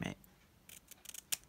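Scissors snip around a paper embellishment in a few quick, close cuts, with faint crisp paper rustle between the short clusters of blade clicks.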